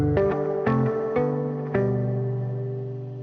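An electric guitar through an amp set with heavy reverb plays a few plucked notes and chords, each one ringing out into a long, wet, slowly fading tail that overlaps the next.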